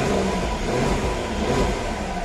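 A Nissan Skyline R34 engine roars at high revs, loud and close, sustained without a break.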